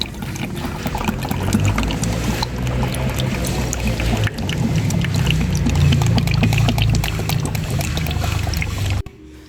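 Engine oil pours into a Mazda 323 engine in a loud, continuous gurgling stream for about nine seconds before cutting off abruptly, with no talking.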